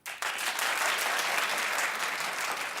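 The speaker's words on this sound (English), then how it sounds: "Clap if you would think it would be Julia" An audience claps in answer to a talk-show host's question, dense applause starting abruptly and holding steady to the end, alone without talk.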